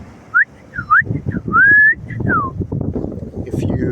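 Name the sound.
whistle imitating a bird call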